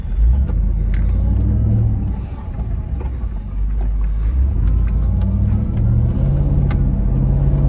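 A Mercedes-Benz SL55 AMG fitted with Neomax coilovers drives along, heard from inside as a deep, continuous engine and road rumble that dips briefly and then swells again.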